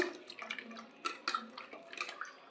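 Flour dough being washed by hand in a bowl of water, giving soft wet sloshing and splashing with small intermittent splashes, close and moderately quiet, no talking.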